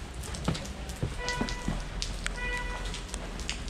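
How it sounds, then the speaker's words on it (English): Rain falling outside during a rainy day in Istanbul, a steady broadband patter with scattered louder drops and taps, heard from under cover with no clear talk. "It's raining again."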